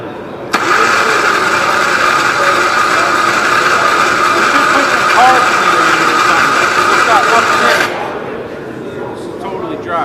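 A Gravely tractor's Onan NB engine, ignition key on and slightly off idle, whirs in a steady loud drone for about seven seconds before cutting back, with no one speaking.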